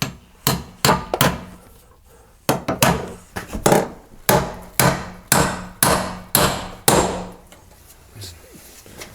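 Hammer driving nails into a metal joist hanger on wood framing during a kitchen remodel: a dozen or so sharp, ringing blows, first scattered then in a steady rhythm, close and loud.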